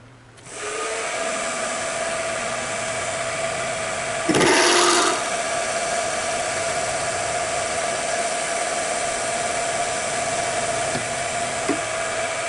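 A reamer is driven into a table saw alignment tool by a power tool whose loud, steady motor whine starts up and runs throughout, with a short harsher burst of cutting noise near the start.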